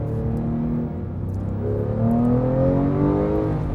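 A Porsche 911 GT3 Touring engine revs and pulls hard, its deep rising drone climbing in pitch as it accelerates, loud and close from the cabin.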